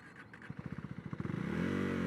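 A Royal Enfield Himalayan 450 motorcycle with a standard quick shifter pulls away, its engine pulses quickening into a rising rev as it snicks up through the gears, heard fairly close with no talk.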